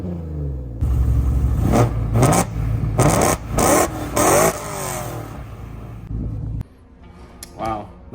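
A BMW E92 M3 V8 exhaust revving, several loud close blips that rise and fall in quick succession over a steady idle rumble, then it drops back to a quieter idle with one last short rev.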